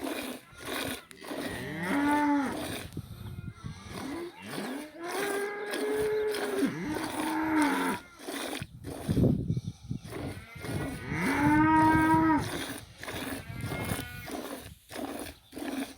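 A village dairy cow back from pasture near midday moos loudly and close by, three or four long drawn-out calls separated by quieter pauses with some rustling.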